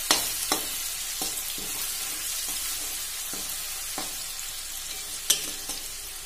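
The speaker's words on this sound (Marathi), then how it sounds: "अशी फोडणी देऊन घ्यायची, त्याला थोडस लालसरपणा आला तेवढा थोडं लाल झाला" Spices tempering in hot oil until they turn slightly red, for a village-style vermicelli rice dish; a steady close sizzle runs throughout, punctuated by occasional sharp taps and clinks of a spoon against the pan.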